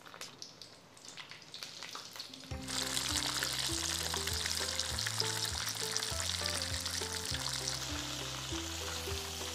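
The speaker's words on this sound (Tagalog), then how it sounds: "Mainit na itong mantika, fry na ulit natin sa pangalawang pagkakataon." Chicken deep-frying a second time in hot oil in a large pan: a loud, steady, crackling sizzle swells up after a quieter start and continues over background music.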